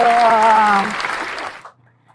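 Audience applause at a podcast recording celebrating a first-place award, rising from under a brief voice and washing through for about a second before fading out.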